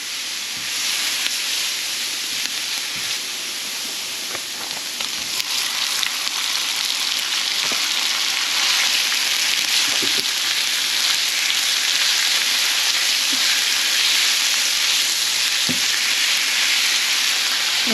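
Pork and garlic sauté in a pan with a loud, continuous hissing sizzle that stays dense and steady throughout. Occasional spatula knocks and scrapes punctuate it up close, and no voices are heard.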